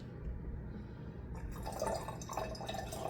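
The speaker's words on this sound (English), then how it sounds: "I have 16 ounces and 1 ounce of lime sulfur. So I'm going to add this here." Lime sulfur concentrate poured into a container of warm water, a soft trickling and dripping splash that starts after a quiet moment and continues steadily at close range, with no talk.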